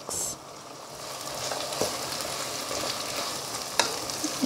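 Onions with salt frying in a pan for a chicken curry, a steady close sizzle with a scrape of stirring at the start and occasional clicks of a spoon against the pan.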